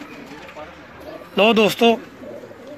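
A pigeon on a rooftop in Kamoke gives one short, throaty coo in bursts midway, close by, while someone speaks nearby.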